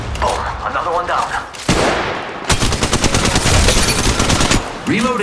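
Heavy automatic gunfire in the mobile shooter Apex Legends Mobile, played on an iPad: loud, fast, rattling bursts that pause briefly before a long sustained volley, with game effects and occasional tonal sounds mixed in.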